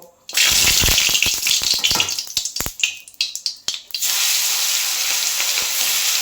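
Loud, steady sizzling hiss of rupchanda (pomfret) fish dropped into hot oil in a wok, with sharp spitting crackles bursting through before the frying settles into a continuous roar.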